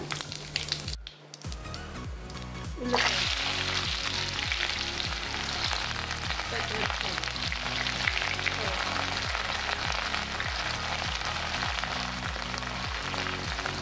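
Mustard seeds and cumin crackle and sizzle in hot peanut oil, starting with a brief pop and then turning into a loud, steady frying hiss with rapid spattering that runs throughout.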